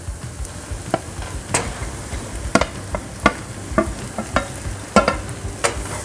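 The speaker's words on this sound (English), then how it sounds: "I'm going to add the aubergine into it." Aubergine stirred into a sauce in a pan, heard as repeated spoon scrapes and clacks over a soft, steady sizzle.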